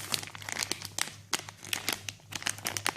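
A plastic bag holding an ELM327 OBD-II Bluetooth adapter crinkles and rustles close up in quick irregular bursts as it is opened.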